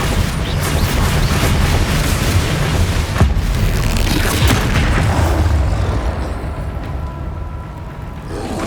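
A Bombarda spell explosion in the video game Hogwarts Legacy, a loud sustained boom with crashing debris that slowly fades away.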